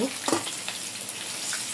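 Hilsa fish frying in plenty of oil, a brief close steady sizzle with a couple of stirring clicks.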